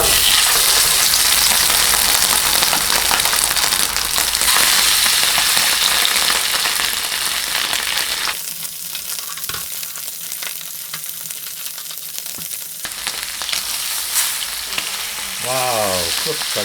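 Steak fries in a smoking pan of plain cooking oil. A loud, dense sizzle fills the first half, then eases to a quieter crackle, and a brief voice comes in near the end.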